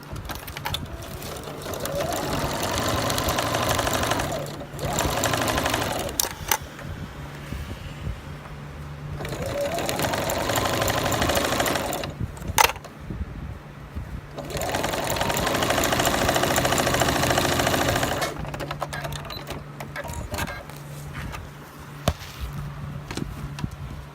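Straight-seam stitching on a sewing machine, 3.5 by 2.5, with the presser foot close to patchwork fabric for a small zippered pouch; steady whirring runs in several bursts separated by brief pauses, close and fairly loud.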